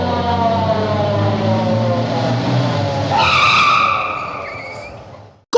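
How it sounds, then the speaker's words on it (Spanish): A police car sound effect: a steady tonal engine drone gives way to a wailing siren sweep, loud and close, cutting off abruptly at the end. "¡El carro policía!"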